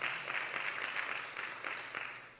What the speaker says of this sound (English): These young people, they need to be applauded again because that was awesome what they did.